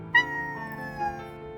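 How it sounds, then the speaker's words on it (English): A pet cat lets out a single drawn-out meow, close and clear, tapering off over about a second with no talking around it. "That's my cat knocks."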